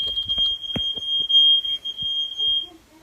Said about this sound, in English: I don't want this fire alarm all night.